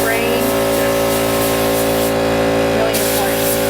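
A cup spray gun sprays toner in a continuous loud, steady hiss with an air-driven roar beneath, running without pause across the whole stretch.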